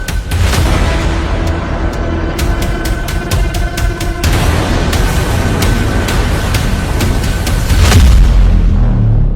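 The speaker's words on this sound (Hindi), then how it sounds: "इजराइल में ईरान की जुल्फिकार मिसाइलों के धमाके" Dense, continuous rumbling blasts and booms with sharp cracks scattered throughout, loud and chaotic like distant heavy explosions and bombardment, from Iranian Zulfiqar missiles striking Israel.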